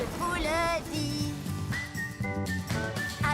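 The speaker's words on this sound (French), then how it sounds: "Je siffle en passant, oui, regardez-moi." Steam train whistle from a French-language Thomas & Friends cartoon, sounding as rising, tuneful toots near the start over a bed of cheerful music and singing.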